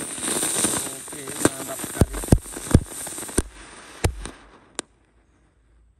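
A jumbo spinning firecracker (mercon gangsing jumbo pretek) bursts into a run of sharp, loud pops and cracks over about five seconds, with a crackling hiss between them and a voice talking over it.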